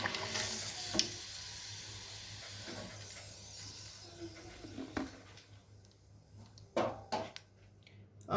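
Potato snacks fry in hot oil with a soft, steady sizzle and hiss that fades over several seconds, then a few louder clatters and bumps close by. No one speaks.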